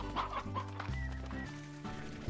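Chickens cluck in the Slime Rancher video game, a few close, steady calls layered over a continuous musical background with no talking.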